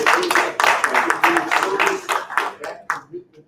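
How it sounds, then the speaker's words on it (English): Audience at a men's mental health panel event applauds with a round of brisk, dense clapping that gradually thins out and fades near the end. "So I'm comfortable saying let's give him a round of applause."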